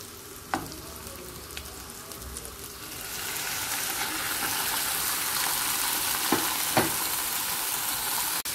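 Liver sizzles in a hot pan, starting quieter and swelling into a steady, loud frying hiss after a few seconds, with a few faint clinks of stirring and no voices.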